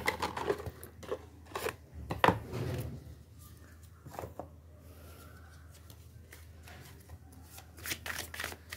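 Tarot cards shuffled by hand in a close, quiet room, a burst of riffling and flicking at the start followed by softer intermittent card shuffles and slides.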